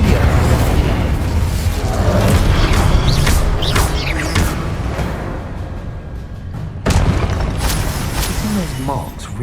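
Incendio fire spell cast in Hogwarts Legacy, a sustained loud whooshing, crackling burst layered with booms and mechanical clatter, with a sharp new blast late on, alongside game sound and some speech.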